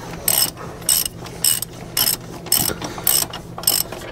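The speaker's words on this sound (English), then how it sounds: "And I'm gonna run everything down with a socket wrench until it gets snug," A hand socket wrench ratchets lug bolts during a Ford F350 front wheel bearing replacement, producing sharp, close clicking bursts in a steady rhythm, about seven quick strokes with short pauses between them and no talking.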